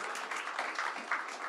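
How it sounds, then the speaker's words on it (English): An audience at a talk gives a round of applause, a faint, distant wash of many hands clapping with no single claps standing out. "How about a round of applause for 10 years at Google?"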